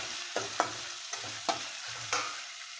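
Ingredients are stirred and sautéed in a pan, heard as a soft sizzle broken by several distinct scraping strokes of a spoon against the metal, close and clear with no talking.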